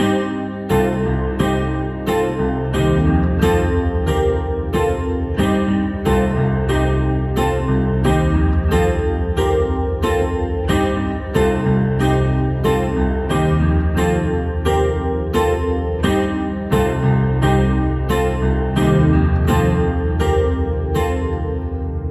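Solo piano plays the ending of a song, a steady, repeating chord pattern at a moderate pace, clear and close, with evenly struck notes ringing through to the close.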